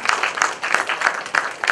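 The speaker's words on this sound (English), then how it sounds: "could we please have a big round of applause for Sunil Patil" Audience at a sustainability ideas event (Nerolac Earth Matters) applauds a newly introduced speaker, with moderate, steady rhythmic clapping throughout.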